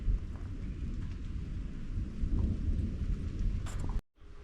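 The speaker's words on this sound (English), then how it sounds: "Got a nice thunderstorm rolling in tonight." Steady rain with rolling thunder outside a garage, a deep rumble swelling under the constant patter before the sound cuts off abruptly near the end.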